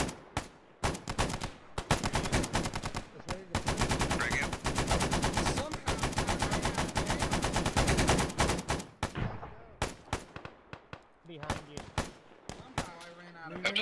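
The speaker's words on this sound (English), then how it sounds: "Oh, we're getting shot at." Video game gunfire crackles in long, dense automatic bursts with scattered single shots, loud and sustained, then breaks into sparser, uneven volleys toward the end.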